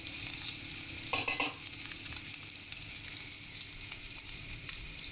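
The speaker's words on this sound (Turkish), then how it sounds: "şöyle azıcık da yarım kaşık kadar da biber salçasını da biraz kavuralım" Tomato paste and a half spoon of pepper paste fry in a little hot oil in a small pot, a steady soft sizzle with a brief louder clatter of stirring near the start.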